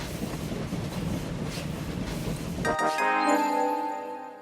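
Train rolling along tracks in the railway game Train Valley, a dense rumbling clatter that gives way near the end to ringing tonal chimes or a bell-like signal, fairly close and steady.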